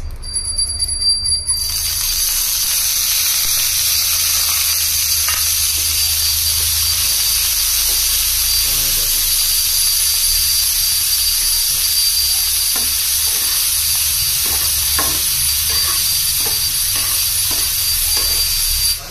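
Onion, chili and garlic sizzle in hot oil with a steady loud hiss that fills the whole stretch, broken by scattered clicks and pops of frying.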